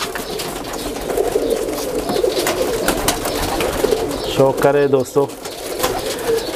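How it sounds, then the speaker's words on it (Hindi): Teddy pigeons coo softly and steadily in a busy loft, with someone talking over them and a brief burst of other bird calls near the end. "यहाँ अभी आप लोग को जितने दिखा रहे हैं ये सारे टेडी कबूतर है"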